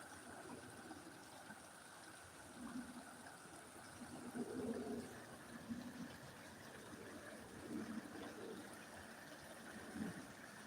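The White River flowing outdoors during a salmon run, a steady faint rush of moving water with a few slightly louder surges and splashes.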